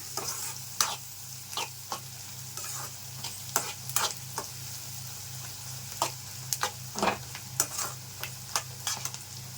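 Onions with turmeric sizzle steadily in hot oil in a pan for a simple okra fry, with a constant frying hiss and irregular sharp clicks and scrapes from a spoon stirring throughout.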